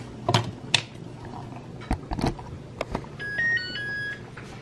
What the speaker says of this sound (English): the timer's going off now